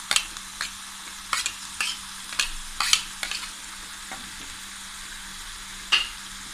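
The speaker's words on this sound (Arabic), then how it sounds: "وبرضه هديها تشويحة مع البصل" Thinly sliced onion sautéing in a pan with chicken makes a faint, quiet sizzle. A series of crisp scraping strokes from stirring come in the first few seconds, then one more near the end, with no talking.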